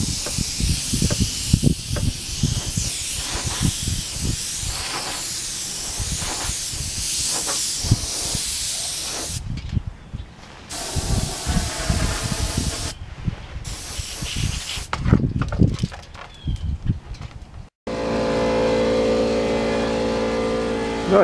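Airbrush hissing as it sprays paint onto a Yamaha FZR motorcycle part during restoration, a steady close airy spray with brief pauses and changes in pressure.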